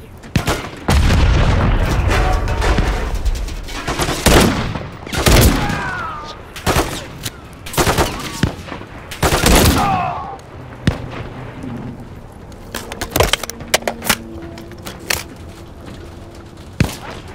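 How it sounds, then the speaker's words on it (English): Enemy gunfire in the Call of Duty Modern Warfare 3 campaign: loud overlapping rifle bursts and booming shots in quick succession, with game voices calling out among the firing before it thins to scattered single cracks. "There's enemy fire!"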